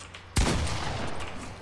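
A sudden loud burst of gunfire in the Fortnite video game hits sharply, then trails off into a ringing, noisy decay over the next second.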